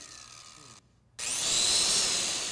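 A power tool, most likely a drill, runs loud and steady with a harsh whirring whine. It stops briefly and then starts up again and keeps running. No one speaks over it.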